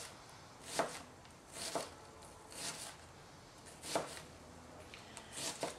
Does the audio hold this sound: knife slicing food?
yes